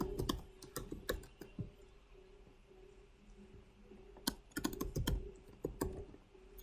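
Fingers tap out a password on a computer keyboard in quick bursts of clicky keystrokes with pauses between, close and fairly quiet in a still room.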